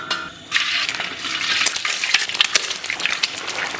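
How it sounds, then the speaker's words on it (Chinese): Eggs frying in hot oil in a pan, opening with a quiet moment before a bright, steady sizzle that crackles and pops continuously, close up and fairly loud. "油温3、5成热，咱们把鸡蛋给它打里边"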